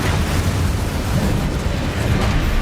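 An Incendio fire spell cast in Hogwarts Legacy, a loud, continuous roaring burst of flame with a rumbling, explosive body that holds steady for a few seconds, close up and alone.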